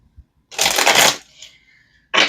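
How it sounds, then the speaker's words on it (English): Tarot cards being shuffled in two bursts of dense riffling, close and fairly loud, separated by a short pause with a faint tone. "I'm feeling called to shuffle."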